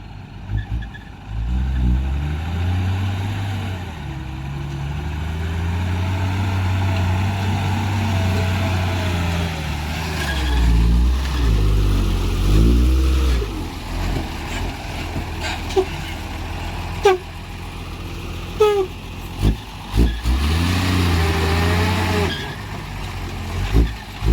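A heavy tractor engine drones steadily throughout, rumbling low and close with rising and falling revs, joined near the end by a few sharp knocks and clanks.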